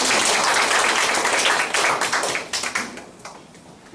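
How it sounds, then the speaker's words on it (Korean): An audience at a Korean polytechnic college lecture breaks into dense applause, many hands clapping at once, loud and close, then thinning into scattered claps as it fades. "박수 한번 주시죠."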